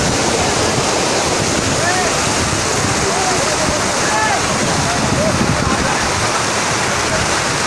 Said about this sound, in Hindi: देखें पानी की स्पीड